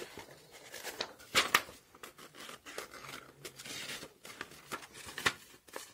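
Scissors snip through paper in a series of short, crisp cuts, close and quiet, with faint rustling between them.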